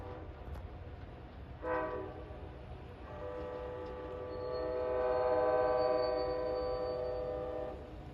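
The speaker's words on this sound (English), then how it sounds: "New Jersey Transit loves the K5LA horn, but there are a few other varieties" A New Jersey Transit diesel locomotive passes while sounding its K5LA horn, one short blast and then a long, swelling chord over the steady rumble of the train, moderately distant.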